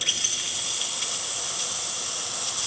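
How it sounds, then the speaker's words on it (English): A steady, loud hiss of steam rushing from a DeLonghi espresso machine wand after a tune-up, continuous for a few seconds with no other sounds. "we're going to test the steam function of the machine."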